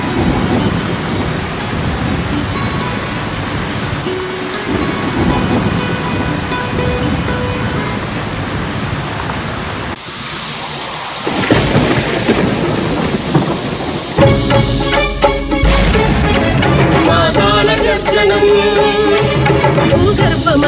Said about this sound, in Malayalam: പുറത്ത് നല്ല മഴയുണ്ട്